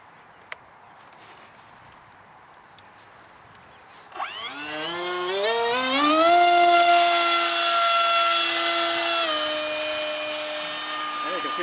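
A 1:26 scale R/C Soviet Buran space shuttle model with a propjet motor spools up at half throttle to a rising, whining buzz that steadies into a loud, sustained tone after a quiet start with a faint click.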